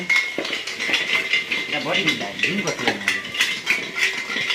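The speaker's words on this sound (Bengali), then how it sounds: "এরা হাঁড়ি করে নিয়ে খেলা করতো" Metal pots and utensils clatter and clink repeatedly in a busy, uneven rhythm while children's voices chatter and call over them.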